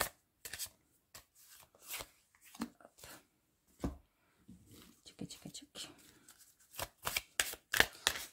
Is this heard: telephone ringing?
no